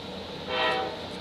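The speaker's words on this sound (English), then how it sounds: "That's a loud train." A train rumbles past in a Marvel card game, with a brief loud swell of rattling, metallic noise in the middle, then settles back to a steady background roar.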